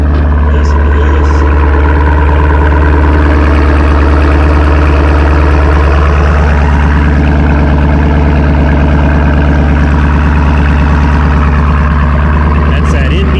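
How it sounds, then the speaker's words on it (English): A car idles through an NBRP exhaust, a loud, deep, steady rumble that sits close and unchanging for over ten seconds with a slight rise in pitch midway. "That's that NBRP exhaust"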